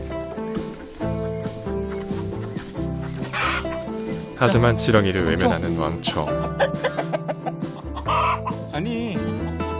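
Farmyard chickens cluck amid geese and ducks sharing one coop, bursts of hen calls rising over a Korean narrator talking throughout, fairly close and loud.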